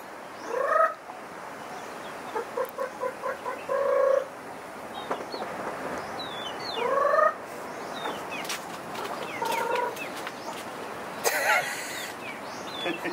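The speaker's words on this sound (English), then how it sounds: "The gangster chicken." A rooster and chickens on a rural property in the Philippines cluck in short bursts and rhythmic runs, scattered across the stretch over soft outdoor background noise, with faint talk now and then.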